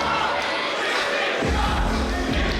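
Unhappy crowd at a live professional wrestling show in Melbourne, a dense roar of booing and jeering voices filling the arena, loud and continuous with a deeper surge midway.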